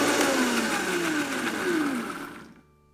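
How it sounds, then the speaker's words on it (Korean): A blender grinds nutritional yeast with almond milk, a loud steady whir with its motor pitch sliding down in waves before it switches off and falls silent. "아몬드 우유 3분의 1컵을 넣고 곱게 갈아주세요"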